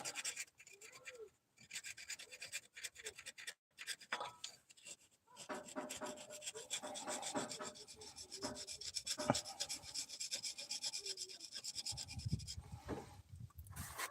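A screwdriver scrapes gunk buildup off engine parts of a 1950 Plymouth Special Deluxe, giving close, rapid raspy scratching strokes with brief pauses between them.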